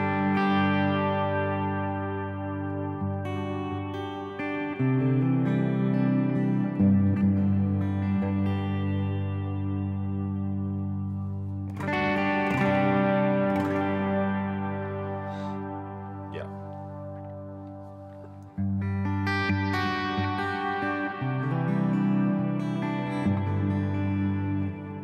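Sustained guitar pad tone from a Kemper Player with effects, thick layered harmonics swelling and shifting between chords, loud and washed in modulation and echo throughout, with no talking.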